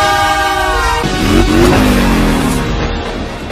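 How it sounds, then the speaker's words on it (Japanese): A train in an animated film rolls along loudly and close, a drawn-out horn-like tone sliding down in pitch over a rumbling, rattling run. "電車。 ポッポ、"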